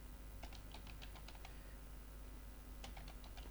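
Fast bursts of keystrokes on a computer keyboard while working in a word processor, two clusters of quick clicks with a pause between, close and fairly quiet over a steady background hum.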